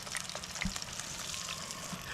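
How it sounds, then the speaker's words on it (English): Pike nuggets frying in hot oil at a camp cooking setup give a steady, close crackling sizzle with scattered small pops, running continuously without talk. "Listen to that sizzle."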